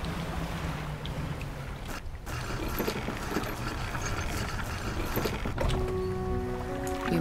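Upgraded boat engine running in the fishing video game Dredge, a steady droning hum with water wash, fairly quiet and continuous, no talk.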